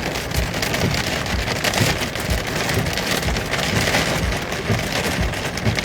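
Heavy rain pours down steadily during a thunderstorm, a loud, dense hiss of drops hitting surfaces with no voices.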